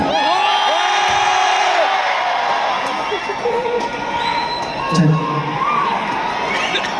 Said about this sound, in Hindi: खान सर शोर मचाओ एक बार जोरदार